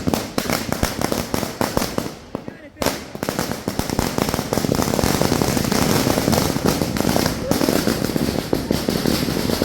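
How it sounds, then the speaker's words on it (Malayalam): Children set off firecrackers outdoors, and a rapid, continuous crackle of sharp bursts runs almost without pause for the whole stretch. There is a brief gap early on, and voices can be heard faintly underneath. "പിന്നെ അവിടെ ഇല്ല ചെറിയ ആൾക്കാരൊക്കെ പടക്കം പൊട്ടിക്കുന്നുണ്ട്."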